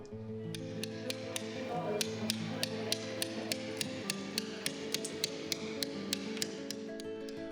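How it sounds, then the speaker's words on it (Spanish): A stone is chiselled with an escafilador to start a chamfer, giving a steady series of sharp metallic strikes about twice a second, crisp and close over a faint background hum. "Para iniciar la talla de un chaflán, si la cantidad de material a eliminar nos lo permite, podemos utilizar el escafilador."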